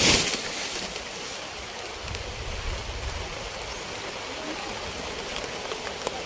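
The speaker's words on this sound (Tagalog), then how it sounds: "Katulad nito umuulan." Steady rain falls on banana leaves outdoors, a dense, even hiss of drops that holds throughout without a break, with a slightly louder onset at the very start.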